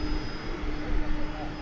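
MD jet airliner engines roar at DFW Airport at night, a steady heavy rumble with a constant high whine, talk faintly mixed in.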